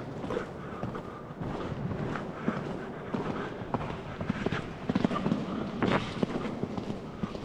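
Horse hooves thud unevenly on soft ground at a trot in an arena schooling session, moderately quiet, with wind buffeting the microphone.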